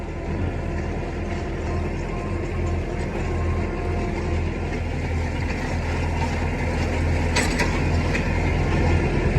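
A tractor engine runs at steady low RPM while baling damp second-cut hay in a field, a continuous loud low drone with a faint mechanical rattle throughout and no pauses.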